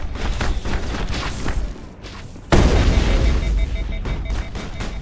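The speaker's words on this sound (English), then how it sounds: "Explosive shotgun." Explosive shotgun blasts in the Mass Effect video game: muffled booms and gunfire give way to one loud, close blast that drops into a rumbling tail.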